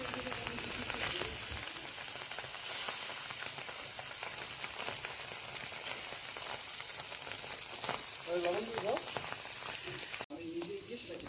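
Fish pieces frying in a wok, a faint, steady crackling sizzle with occasional spatters and utensil scrapes, ending in a brief sharp knock.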